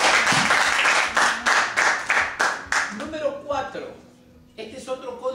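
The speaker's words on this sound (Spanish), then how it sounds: "Denle otro aplauso." A church audience in Geneva, Switzerland, claps loudly in a brisk, even rhythm for about three seconds, then the clapping fades and someone speaks to the crowd.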